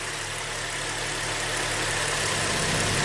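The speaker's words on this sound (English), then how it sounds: "the engine definitely is stumbling and off and runs smoother" A GM V6 engine running rough and stumbling during a timing-chain and camshaft check, a steady close idle drone with uneven low pulsing and no talk.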